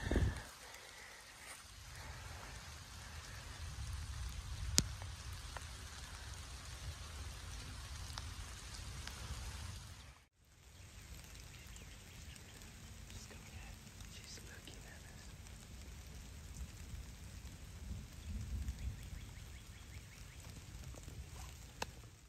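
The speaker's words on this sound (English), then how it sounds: "Started raining on us" Rain falling outdoors on a public-land trail during whitetail deer scouting: a steady patter and hiss of raindrops throughout, close and even, with a brief dip midway and some faint low murmuring, but no clear thunder.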